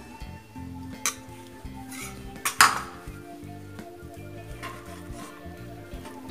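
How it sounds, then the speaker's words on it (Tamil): Puliyodharai powder being stirred into cooked rice in a metal pan, a spoon scraping and clinking against the pan in irregular strokes, with a few sharper knocks, close and fairly quiet. "இப்போ இதை நல்லா கலந்து விட்டுக்குங்க."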